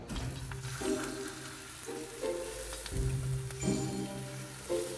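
Grated-potato hash browns frying undisturbed in a pan make a soft, continuous sizzle and crackle, with quiet clattering and kitchen sounds layered over it.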